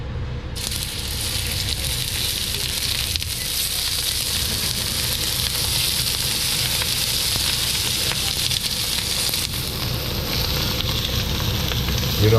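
Prawns sear in a smoking-hot cast iron pan with a loud, steady sizzle and hiss that starts abruptly and holds at full strength, close and continuous.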